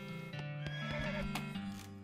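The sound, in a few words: horse neighing, from video game West of Loathing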